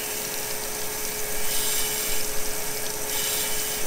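A crankshaft grinder grinding a set of engine valves for a '68 Firebird 350, a steady high-pitched abrasive whine and hiss with slight swells, close and continuous, no talking.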